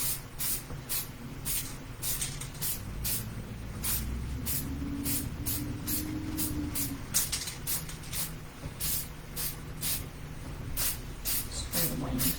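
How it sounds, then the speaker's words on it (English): Rapid bursts of aerosol spray, a glossy wood tone finish misted onto a decorative fake turkey near the leg, hiss in quick repeated short pulses throughout, with faint handling noise underneath. "I'm going to see if I can spray it sort of up here toward the leg just a little bit"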